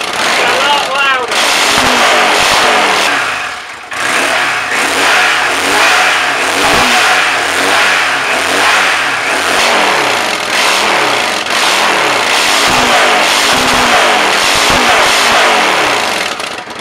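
A Yamaha Dragstar motorcycle with a modified exhaust revs hard and repeatedly from idle, each blip rising and falling in a loud, close, throaty roar, with a brief dip partway through.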